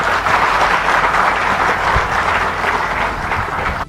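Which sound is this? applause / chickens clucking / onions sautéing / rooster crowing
applause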